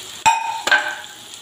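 Okra dropped into a pan of frying spiced tomato masala seasoned with asafoetida, chili, salt and turmeric: two sharp splashing hits followed by a brief hiss and sizzle, close and fairly loud.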